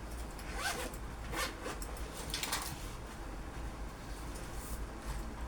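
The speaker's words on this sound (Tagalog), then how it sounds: "dito na tayo sa second na zipper" A zipper on a school bag is pulled open in several short rasping runs, close and fairly quiet, with no talking.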